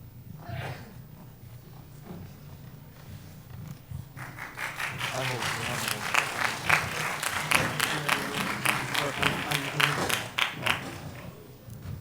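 An audience at a 2023 university chemical and biological engineering department information session applauds a student representative after the presentation. Talk comes first, then a full, steady round of crowd clapping swells and continues for about eight seconds.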